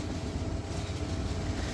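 A night passenger train climbing through the hills between Bhanugach and Sreemangal in Lawachara, heard as a steady, loud rumble and rolling roar from close by, with no talking.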